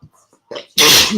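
A sharp inhale followed by one forceful, close sneeze that sprays out loudly and trails off.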